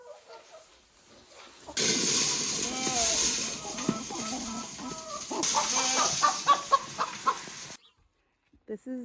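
Farm chickens cluck and call in short bursts close by, over a loud rushing, rustling noise that cuts off abruptly before a few final clucks.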